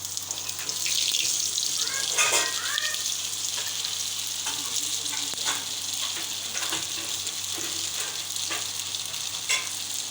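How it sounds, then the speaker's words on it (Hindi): Fish pieces for fish biryani frying in hot oil in a frying pan, a steady loud hiss and crackle with small bursts and pops throughout, close up and without voices. "जब ऑयल ठीक तरह से सही गर्म हो जाए तो उसमें आपने फ़िश ऐड करनी है।"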